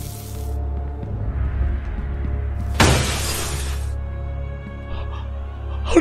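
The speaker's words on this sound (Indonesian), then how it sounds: "Ada yang melempar tai lewat kaca!" Glass shattering in the video game Poop Killer as poop is thrown through a window: one loud, sharp burst of breaking glass lasting about a second, set against quiet background hum.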